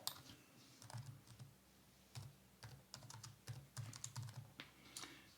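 Rapid clicking of computer keys while an entry date is typed into a social housing case-management form, in irregular bursts of keystrokes with short pauses between, close and fairly quiet with no talking.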